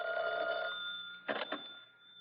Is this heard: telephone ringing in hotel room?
yes